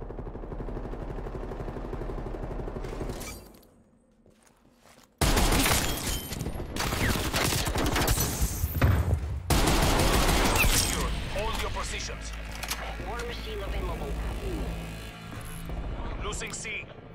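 Gunfire in the video game Call of Duty: Cold War, with a DMR 14 rifle in play: loud rapid bursts and volleys, a brief near-silent gap, then more shooting. A player's voice comes through at times.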